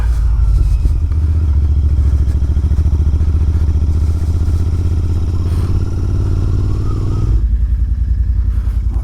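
Royal Enfield Interceptor 650 motorcycle engine thrumming steadily at cruising speed on a ride, loud and continuous with a deep rhythmic low-end pulse and wind rush, easing off near the end.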